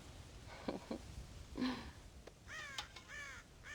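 Crows caw repeatedly in Red Dead Redemption, a few scattered harsh calls early and then a quicker run of rasping caws, moderately close over a quiet outdoor background.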